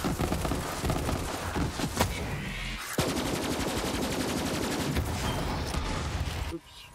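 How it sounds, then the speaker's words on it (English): Gunfire in the video game Borderlands 3: dense, rapid automatic bursts and shots rattle almost continuously, loud and close, with mechanical clicks and brief game effects before it cuts off near the end. "I want to shoot him with that."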